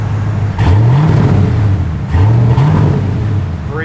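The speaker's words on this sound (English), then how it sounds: "Give it a little rev, Mike." A 1988 Ford Mustang GT convertible's engine revved twice while parked, each blip rising in pitch and then settling back to a steady, loud idle close by.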